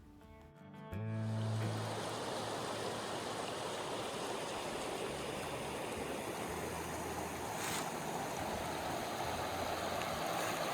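Water rushes steadily past a free, empty campground in Gila National Forest, a dense, even flowing roar that swells in after a brief quieter start and holds unbroken.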